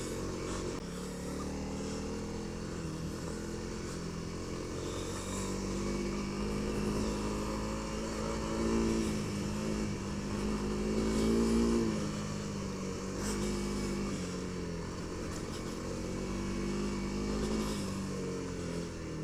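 A Honda CRF300L motorcycle on a trail ride at an average pace, its engine droning steadily and swelling now and then under wind rumble, with no talk.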